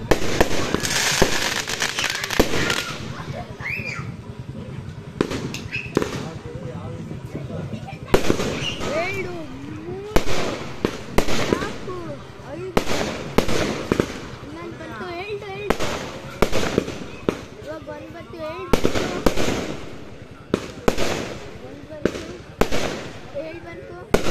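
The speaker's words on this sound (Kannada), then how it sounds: "ಈಗ ಪಟಾಕಿ ಅಂತೂ ತುಂಬ ಜೋರಾಗಿ ಹೊಡಿತಾಯಿದ್ರು" Firecrackers burst loudly again and again at a village temple fire-walking festival for Rama Navami, with sharp cracks and crackling volleys scattered through the clip over crowd noise and people talking nearby.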